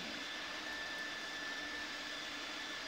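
An airliner's jet engine in a flight video game gives a steady, even roar with a high whine running through it, loud and unbroken, with no voices.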